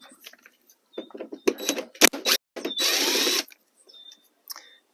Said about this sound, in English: there's 2 Phillips screws that need to come out